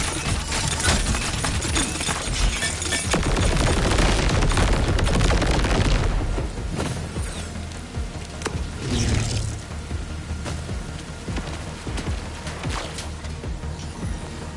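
Dense, loud gunfire and explosions from the Borderlands 4 video game fill the first six seconds as a continuous barrage, then ease into scattered lighter shots and crashes.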